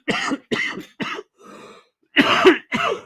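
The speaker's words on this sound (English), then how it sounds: "Welcome to our coughing show." A string of close, loud coughs and throat clearing, about six sharp bursts separated by short pauses, with no talk.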